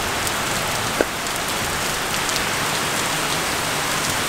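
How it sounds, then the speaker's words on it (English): Heavy rain pours steadily outdoors, a dense, loud, even hiss with no break and no voices, with one small tap standing out near the start. "It's raining quite heavy"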